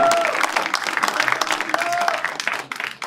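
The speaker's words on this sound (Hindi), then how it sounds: "एक बार जोरदार तालियों से बुलाइए भाई" An audience at a shayari show claps to welcome the final contestant, scattered lively clapping with voices calling out over it, tapering toward the end.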